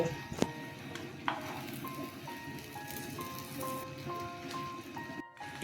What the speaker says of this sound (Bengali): একটু নুন আর গোলমরিচ দিয়ে অপোজিট পার্টটা ভেজে নেব।